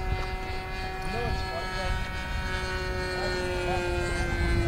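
A small radio-controlled model airplane's propeller engine drones steadily with a high, buzzing whine, with people talking and calling out over it throughout.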